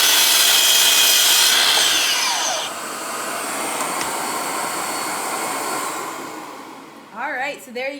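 A power saw blade cuts through wood while a sofa C-table is built, a loud buzzing whine that drops off as the blade spins down, followed by a few faint knocks and rustles.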